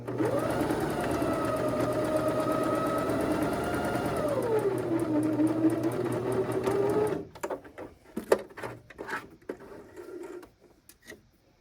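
A sewing machine stitches tiny pants for a marionette, running in a steady, loud whir with pitch that slows and dips, then stops around seven seconds, followed by scattered handling clicks and fabric rustle.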